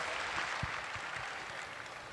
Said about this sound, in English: Big round of applause for the Aussies.